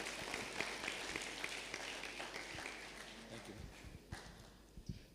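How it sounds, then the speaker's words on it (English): Audience applause at a digital skills event, clapping for a presenter named Sylvia: a faint, steady patter of many hands with scattered sharper claps, heard from a distance. "A bigger round of applause to Sylvia"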